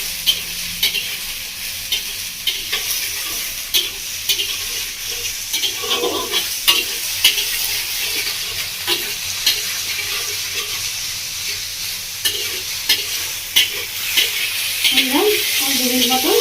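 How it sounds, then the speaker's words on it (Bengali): Pineapple sautéed and stirred with spices in a pan for a Bengali village-style chutney, a continuous sizzling hiss with repeated scraping stirs of a spoon, close and steady, with occasional faint talk. "আনারসটা দিয়ে ভালো করে কষিয়ে নেবো"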